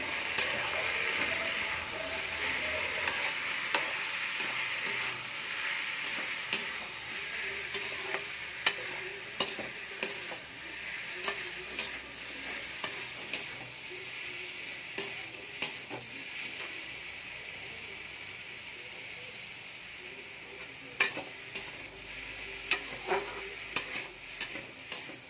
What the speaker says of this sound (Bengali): तरकारीते आमी ए लसुनटा ढेले देव भालो करे मिशिए नेब